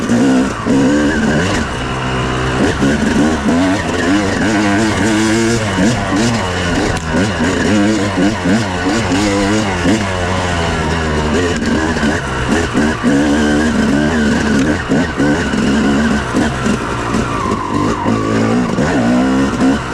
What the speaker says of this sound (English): Eric, we gotta stop riding the two-strokes